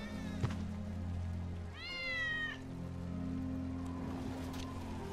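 From Final Fantasy VII Remake, Wedge's cat lets out one drawn-out, clear meow over a steady low hum of in-game background noise, preceded by a faint click.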